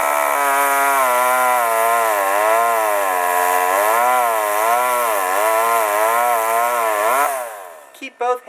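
Chainsaw cutting tree branches during home tree trimming, a loud sustained engine whine that wavers in pitch as it bites into wood, then cuts off abruptly, followed by a few brief knocks.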